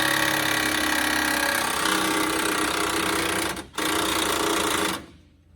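Near and loud, an impact wrench whirs in a steady high-pitched buzz while working on a 2003 Ford F-150 shop truck, briefly cutting out once before stopping, with a faint tail of sound afterward.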